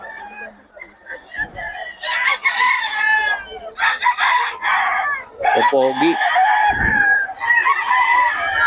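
Gamecock roosters crow and cluck at a busy market, several birds overlapping loudly and continuously while someone talks briefly over them.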